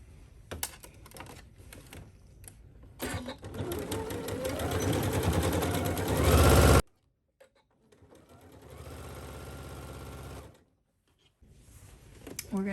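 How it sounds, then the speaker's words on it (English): A sewing machine runs in bursts of fast mechanical stitching, loud and close, with a pause between runs and light handling sounds around them. "So let's take that to our sewing machine and do that now."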